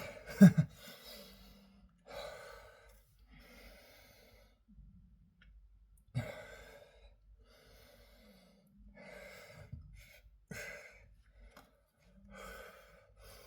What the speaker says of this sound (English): I have to do less talking and more heavy breathing.